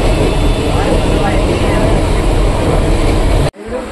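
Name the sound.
train at a railway station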